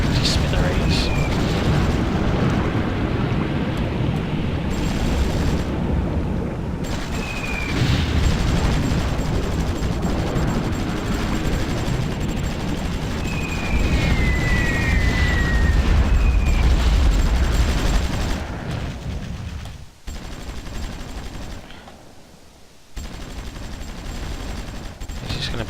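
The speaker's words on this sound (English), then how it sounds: "Air Force is alive and well and bombing stuff to smithereens." Air force bombing in the strategy game Supreme Ruler Ultimate: a dense, continuous barrage of explosions and gunfire-like booms roars loudly for most of the stretch, then thins and drops back toward the end.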